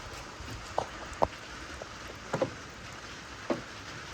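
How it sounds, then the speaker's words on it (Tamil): Rain falls around a parked car during a road trip, a faint steady patter with a handful of distinct drops tapping on a surface at irregular intervals. "பாருங்கள் மழை பெஞ்சிக்கிட்டே இருக்குது"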